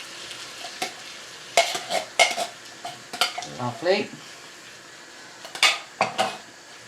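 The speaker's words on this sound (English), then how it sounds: "Just give that a nice stir around." Chilli with pinto beans is stirred in a pot on the hob, a spoon scraping and clinking against the metal in irregular bursts over a faint sizzle, with a brief spoken word.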